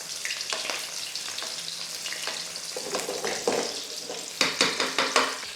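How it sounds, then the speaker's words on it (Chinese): Fish pan-frying slowly in oil over low heat after a brief high-heat start, with a steady close sizzle and a few sharp scraping and clinking bursts from a utensil near the end. "30秒后我们转到小火慢煎哈，记得不要去翻那个鱼先"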